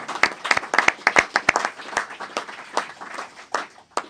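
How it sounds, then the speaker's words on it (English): A round of applause at a Sacramento joint legislative committee hearing on fisheries and aquaculture, with sharp claps from a modest crowd that are dense at first, then thin out to scattered single claps before fading. "I think we need to give him a round of applause."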